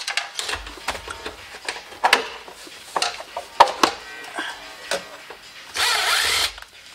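An impact driver whirs and rattles in short bursts while unbolting the ECU bolts on a Mazda Miata, close up, with clicks and handling noises between bursts and one longer run near the end.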